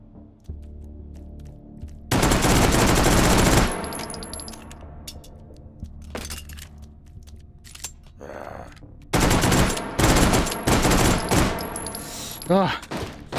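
Gunfire in the VR game Hot Dogs, Horseshoes & Hand Grenades: loud sustained bursts of automatic fire in two long stretches, with scattered single shots and metallic clangs between them. A voice murmurs faintly in the background.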